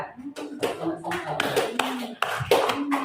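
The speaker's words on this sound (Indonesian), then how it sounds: "Beri aplaus untuk kelompok 2" A classroom group gives applause to group 2, a series of loud, uneven bursts of clapping hands close by, with children's voices mixed in.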